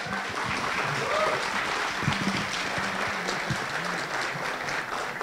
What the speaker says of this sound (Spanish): Recibimos con un gran aplauso a José Crespo Fernández, embajador del Estado Plurinacional de Bolivia